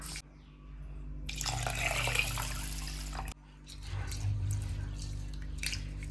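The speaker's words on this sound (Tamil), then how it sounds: "அரிசியை கழுவிட்டு ஊற வச்சிடலாம்." Water runs and splashes over rice being washed, a steady rushing pour that breaks off briefly and then resumes with sloshing, heard close and alone over a low background hum.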